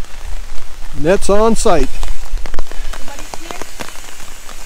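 Steady rain falls on a house construction site in the Philippines, a constant close patter throughout, while a person speaks briefly near the start.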